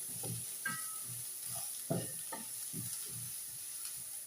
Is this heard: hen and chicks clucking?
no